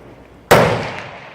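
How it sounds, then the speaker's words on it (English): A single sharp gunshot at an outdoor rifle range, a loud close crack that rings out into a fading echo. "we got gunfire going on because we're at a rifle range"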